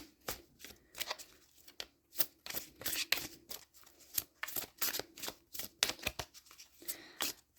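A deck of tarot cards is shuffled close by, a quiet run of irregular riffling slaps and crisp card flicks repeating over several seconds with nothing else around.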